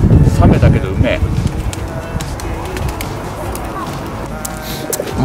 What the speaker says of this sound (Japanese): もうさ、鳩が寄ってきすぎてさ、食べる余裕ないんだからマジでやばくない？